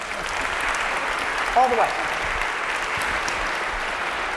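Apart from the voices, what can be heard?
audience applauding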